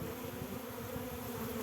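Honey bees hum around an open hive during the first spring inspection, a soft steady swarm drone with no talk.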